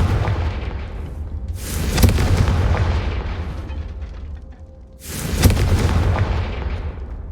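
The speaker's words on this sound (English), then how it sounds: "Confringo!" Two booming spell explosions from the Confringo fire curse in Hogwarts Legacy, each a loud burst with a crackling, fiery tail that decays over a few seconds, spaced about three seconds apart.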